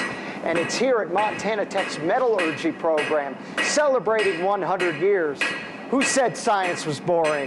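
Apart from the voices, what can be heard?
blacksmith hammers striking hot metal at a forge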